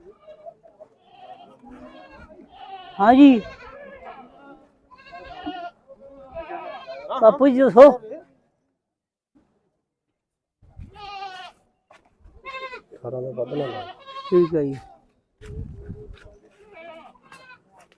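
Goats bleat loudly several times at a goat market, interspersed with people talking nearby; the calls come in short, wavering bursts separated by brief silences.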